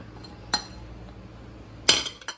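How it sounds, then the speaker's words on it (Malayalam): Spoon clinking against a bowl while filling ingredients are stirred together, two short bright clinks a little over a second apart over a quiet background. "ഇതെല്ലാം കൂടെ നമുക്കിനി മിക്സ് ചെയ്യാം."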